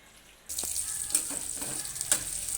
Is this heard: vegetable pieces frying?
yes